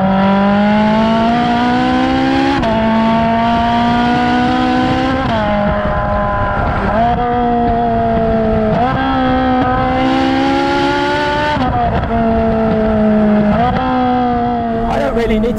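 A Ferrari 458 Spider's flat-plane-crank V8 revs close up toward 9,000 RPM, its loud, high, steady engine note climbing repeatedly between brief dips as the throttle is blipped.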